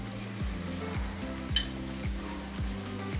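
Methi paratha roasting in ghee on a flat pan, a soft steady sizzle with faint scraping and clinks, behind a low repeating background melody.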